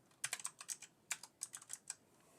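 Fingers typing a short search on a computer keyboard, a quick irregular run of about fifteen light clicks, close and quiet in a silent room.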